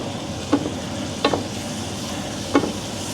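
Chicken in a thickening Malaysian curry is stirred in a pan, three distinct scraping strokes over a low steady simmer and sizzle, close and quiet, with no talk.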